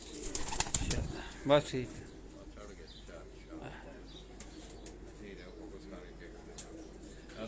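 Pigeons coo softly in a loft of original breed birds, faint repeated calls with light wing flutters, while someone speaks briefly near the start.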